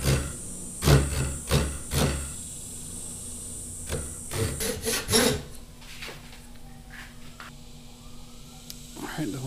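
Wooden swimbait lure body being shaved down with a blade, a series of close, dry scraping and rasping strokes, dense early then sparser, with a person talking over parts.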